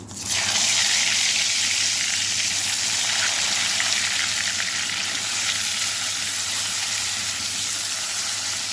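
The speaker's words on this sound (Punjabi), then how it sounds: "ਹੁਣ ਅਸੀਂ ਇਹਨਾਂ ਨੂੰ ਤੇਲ ਦੇ ਵਿੱਚ ਫਰਾਈ ਹੋਣ ਵਾਸਤੇ ਪਾਵਾਂਗੇ" Stuffed tinda (apple gourd) deep-frying in hot oil, a loud steady sizzle that holds evenly from start to finish with a low hum beneath and no voices.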